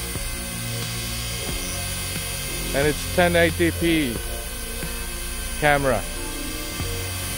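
A hovering SJRC S30W dual-GPS camera drone gives a steady high whine and buzz that runs right through, with people talking over it in short bursts.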